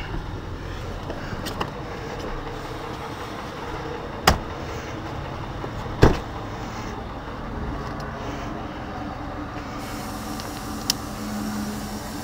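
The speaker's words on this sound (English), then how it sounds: "You can hear the air compressor for the air ride bags or Firestone brand" An air compressor for Firestone air ride bags running with a steady mechanical drone and hum, a few sharp clicks and knocks on top, moderately close and without speech.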